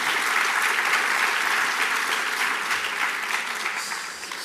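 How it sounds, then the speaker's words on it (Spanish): Audience applause for a speaker at an economic inequality debate in a cultural centre, a bright, even patter of many hands clapping, steady and full before easing slightly toward the end. "Un aplauso también para él."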